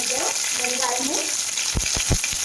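Onion, garlic and ginger sautéing in a pan over a little cumin, a steady close sizzle with a few sharp scraping stirs near the end, no speech.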